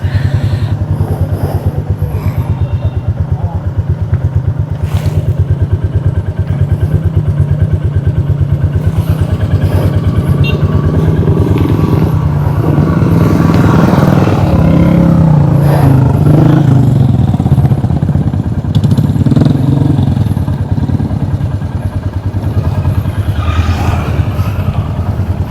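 Royal Enfield Classic motorcycle engine running steadily at idle on a monsoon ride, a continuous close, loud low thump with clattery mechanical texture throughout.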